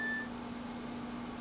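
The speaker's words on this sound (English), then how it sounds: "That was my phone." A mobile phone gives a short, thin beep at the very start, then a low steady hum carries on through the rest.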